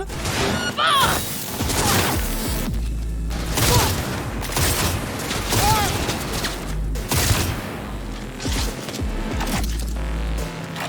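Dense bursts of gunfire from a shootout in the video game Cyberpunk 2077 fill the scene, with steady loud volleys, sharp cracks and booms, and short bits of game dialogue mixed in.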